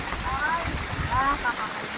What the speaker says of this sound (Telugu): ఇవాళ మస్తు మంచి వర్షం పడుతుంది